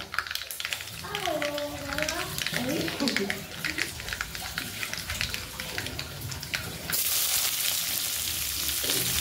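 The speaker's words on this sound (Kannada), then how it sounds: "ಇವಾಗ ಸಾಸಿವೆ ಸಿಡಿತಾ ಇದೆ ಅಲ್ವಾ" Mustard seeds splutter and crackle in hot oil, a busy, continuous sizzle with popping bursts that grows denser toward the end, while a voice talks over the first part.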